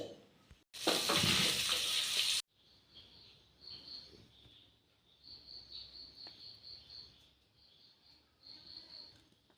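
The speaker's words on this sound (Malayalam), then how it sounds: "പിന്നെ സാധാരണ നമ്മൾ ഉപ്പും മഞ്ഞപ്പൊടി മുളക് പൊടി ഇതൊക്കെ ചതച്ച് ഇപ്പം പൊരിക്കാൻ പോവുകയാണിത്." Small fish seasoned with salt, turmeric, chili powder, garlic and pepper hit hot oil with a loud, hissing sizzle lasting under two seconds, then fall quiet as steady crickets chirp in the background.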